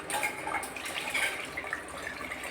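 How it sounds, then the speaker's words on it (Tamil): Water is poured into a pot of chicken curry, a short steady splashing and trickling stream heard close up with no voices. "தேவையான அளவு தண்ணி"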